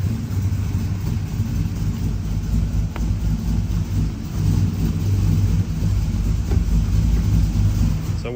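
A turbocharged 6.0 AWD Chevrolet Silverado idles steadily, its low engine rumble close and continuous as the transmission is run through its gears, with a few small load changes along the way.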